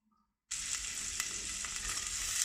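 Garlic sizzles steadily in hot oil for soup with red pumpkin, a dense bright frying hiss that starts abruptly after a short silence and holds at an even level, with small crackles and pops.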